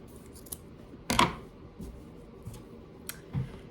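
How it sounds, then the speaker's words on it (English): Scissors snipping through a cotton tea towel for a craft project, a few soft separate cuts with one louder crisp snip near the middle, close and quiet with no talking. "So I'm going to cut off this amount of my tea towel for his hat."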